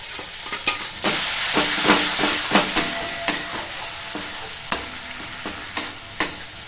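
Ginger and green chilli paste stir-fried with potato and bitter gourd in a hot pan, a loud close sizzle broken by repeated sharp spatula scrapes and knocks at an uneven rhythm.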